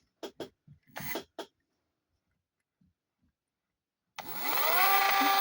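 A Bosch Performance Line SX e-bike motor, fifth generation, spins up on assist mode, a rising electric whir that starts abruptly after a few brief clicks and rustles and then holds steady and fairly close.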